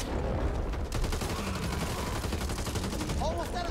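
Gunfire in the Back 4 Blood co-op zombie shooter, rapid overlapping shots forming a dense, fairly faint continuous burst under game ambience.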